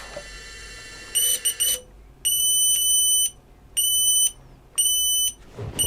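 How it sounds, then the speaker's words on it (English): An Emax Hawk 5 FPV racing drone, motors stopped after failsafe, sounds its lost-model alarm: four loud, high electronic beep bursts, each about a second long, separated by short gaps and heard alone. "it's beeping the lost model alarm"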